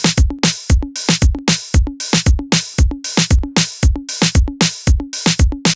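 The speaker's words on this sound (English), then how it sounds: "The basic soca or calypso pattern for congas is" A steady, repeating conga groove in a soca pattern, crisp slaps mixed with ringing open tones, played alone at an even, bouncy pace.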